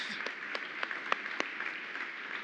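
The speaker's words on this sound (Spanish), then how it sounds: "Y damos un aplauso fuerte al Señor." Church congregation applauding during a Sunday service, a steady patter of many hands with a few sharper claps standing out, held at moderate distance with no talking over it.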